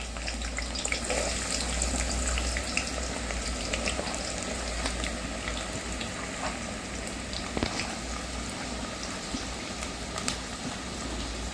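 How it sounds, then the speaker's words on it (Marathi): Onion drops into hot oil in a pan for a spicy chicken curry, giving a steady, close sizzle and bubbling hiss that continues throughout. "आता आपण कांदा टाकून घेऊया."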